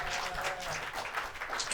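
Audience applause for Jordan, dense clapping from a crowd heard at moderate level, steady throughout the short moment.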